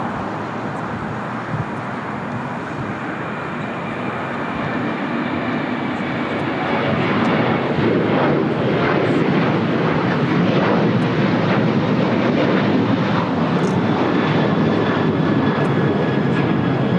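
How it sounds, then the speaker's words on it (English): An Alaska Airlines Boeing 737-900ER jet takes off at LAX, a steady, loud engine roar that builds gradually and holds, with no voices over it. "Alaska Airlines 1332 taking off to Liberia on a 737-900ER."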